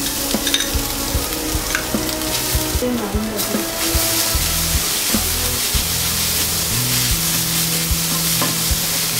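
Soya sizzles with golden onions in a hot pan for soya keema paratha, a loud, constant frying hiss with stirring scrapes and a low hum underneath.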